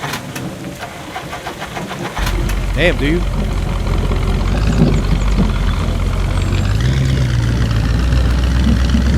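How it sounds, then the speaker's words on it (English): A damaged car in the Survive The Nights survival game cranks but fails to start, a low engine rumble and starter grind steadying into a continuous drone, with a man's brief exclamation over it. "My car won't start."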